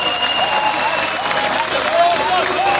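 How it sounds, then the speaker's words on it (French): A large crowd at a political campaign rally in Congo applauds steadily, a dense continuous wash of clapping with some cheering and whistles, close and loud throughout. "On applaudit pour eux."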